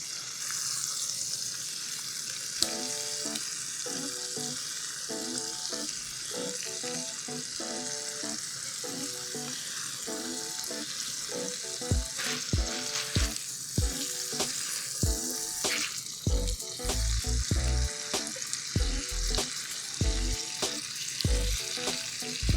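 Chicken pieces frying in a skillet for a fricassee, kept pale and turned every minute; a steady close sizzle runs throughout, with clinking, scraping knocks of the utensil against the pan growing denser in the second half.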